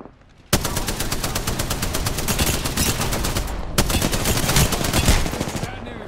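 Rapid automatic gunfire in Apex Legends starts abruptly and rattles on steadily in fast, even bursts, loud and close, with a brief break partway through.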